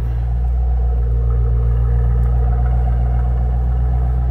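A 2008 Ford Mustang Shelby GT convertible with a 4.6-liter three-valve overhead cam V8 idles, its exhaust giving a deep, steady, throaty rumble, close and loud with no talk.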